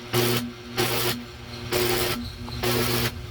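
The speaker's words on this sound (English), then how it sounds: "Just making sure to get it welded all the way around." A welder buzzes in four short, even bursts with brief pauses between them while joining the steel of a landscape rake all the way around.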